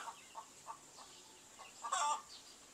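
Chickens cluck in short, soft bursts at a distance, followed by a louder, longer squawk near the end.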